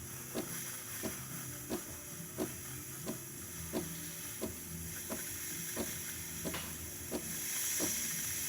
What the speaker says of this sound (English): Alright, so we have a nice strong steam.